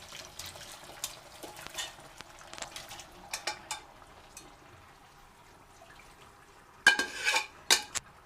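Chicken pieces dropped into simmering curry gravy in a pan, with soft irregular clinks and scrapes of a utensil, then a louder burst of clattering stirring near the end, without speech.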